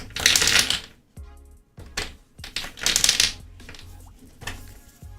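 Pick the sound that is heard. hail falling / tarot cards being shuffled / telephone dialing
tarot cards being shuffled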